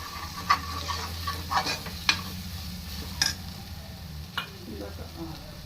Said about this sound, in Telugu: కొద్దిగా దీన్ని కొంచెం బాగా కలుపుకుందాం